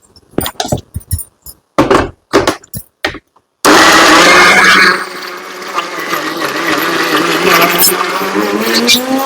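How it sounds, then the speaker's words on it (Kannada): Jaggery and other ingredients are powdered in an electric mixer grinder jar during festival cooking. A few sharp clinks come first, then a loud motor whirs and grinds continuously, easing to a lower, steadier drone. "ಬೆಲ್ಲನು ಕೂಡ ಸೇರ್ಸಿನೇ ಮಿಕ್ಸಿ ಜಾರ್ಗೆ ಹಾಕಿ ಪುಡಿ ಮಾಡ್ತೀನಿ"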